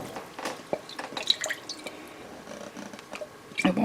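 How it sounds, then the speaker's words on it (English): Water swirled in a jar to rinse it, then poured over a sausage, pasta and feta cheese casserole: close, soft trickling and scattered drips in short bursts, ending in a brief louder splash, with no talking. "I'm just going to use a little bit of water to rinse in the jar and pour that on top"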